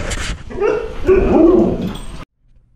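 Dogs whine and yip excitedly, with a couple of short barks mixed in, close and fairly loud, ending abruptly.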